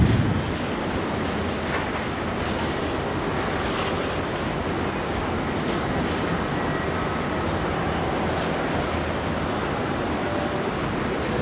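An airplane on approach to land on runway 16 right at Sydney Airport, heard as a steady broadband roar with wind-like rushing, constant in level and without any talk.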